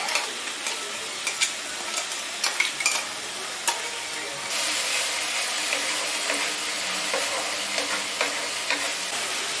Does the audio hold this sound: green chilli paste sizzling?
yes